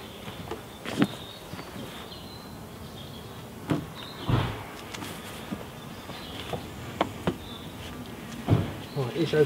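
Honeybees swarm over an open hive during hive uniting, with a steady buzzing drone throughout, broken by occasional knocks and thumps of handling nearby.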